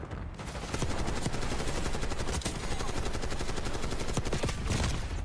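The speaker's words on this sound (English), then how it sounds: "Ran through my full auto LMG and didn't die." Sustained full-auto light machine gun fire in a first-person shooter video game, loud dense continuous bursts rattling on for several seconds with barely a break.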